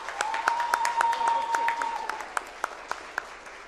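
Sparse, scattered clapping from a conference audience at a journalism writing event, individual claps ringing out in a reverberant room over a steady held tone, thinning to a few isolated hand claps.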